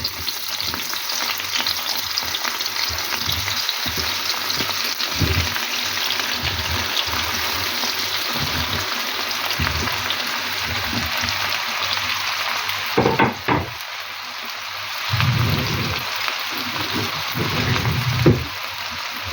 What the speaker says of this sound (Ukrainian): до м'якості баклажанчики смажую, поки вони стануть м'якенькі.